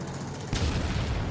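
An FPV drone strikes the top of a BTR armored vehicle, a sudden loud blast after a half-second of rushing noise, followed by a dense, rumbling roar that holds at full level to the end.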